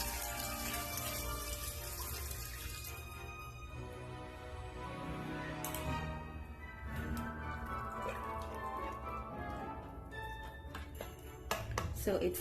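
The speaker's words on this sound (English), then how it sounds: "Using the same bowl that the beef was in, I added 5 cups of water." Water poured from the bowl that held the beef into a pressure pot for beef pepperpot, a steady splashing pour with light clinks near the end.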